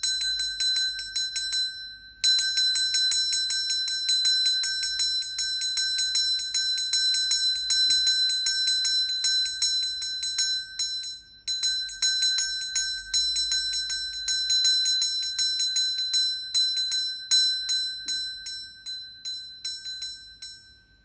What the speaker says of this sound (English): listening to the sound of the bell, just tinkling, giving it your complete attention.